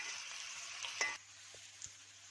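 Onions sautéing in a pan for Karnataka-style aval upma, a soft steady sizzle with a brief stir and clink of a utensil around the middle, no voices.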